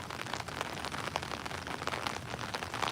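Pouring rain on a walk through Edinburgh, a dense continuous patter and hiss of drops striking pavement and surfaces, close and steady with scattered sharper splashes throughout.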